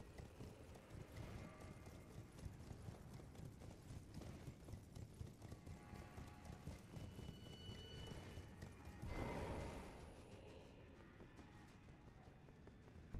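Galloping horse hooves from riding in the video game Elden Ring, a steady rapid clip-clop rhythm running throughout under dense game ambience and music, with a brief louder swell partway through.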